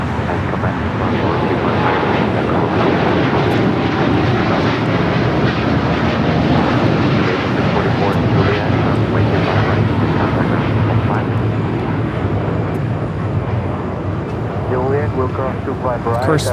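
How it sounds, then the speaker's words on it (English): A United Airlines Boeing 787-9 Dreamliner takes off at LAX for Tokyo Narita, giving a continuous broad engine roar. People talk over it at moments. "United Airlines Flight 32 taking off to Tokyo Narita on the 787-9 Dreamliner"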